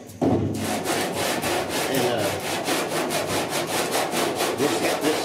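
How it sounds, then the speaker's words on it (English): Steady back-and-forth rasping of a sanding block on still-soft body filler on a 1966 Ford F100 dash and firewall, strokes repeating in a regular rhythm, close and loud, with a brief word spoken. "this filler is still not good and hard, but it's at the perfect time to be sanding on it"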